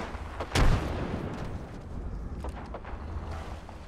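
A frag grenade blast in Apex Legends gameplay, one loud close boom followed by a rumbling tail and scattered distant gunfire.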